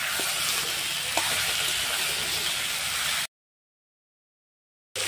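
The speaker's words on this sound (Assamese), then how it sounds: "এতিয়া মাছখিনি দি অলপ উলট পালট কৰি দিম" Fish frying and being stirred in a pan, a steady loud sizzle with faint scraping from stirring for about three seconds, then silence before the sizzle returns briefly.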